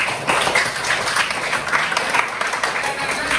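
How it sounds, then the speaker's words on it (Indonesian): Students in a classroom clap together after a lesson, a dense steady burst of applause at close range that holds evenly for a few seconds. "Tepuk tangan dulu saja."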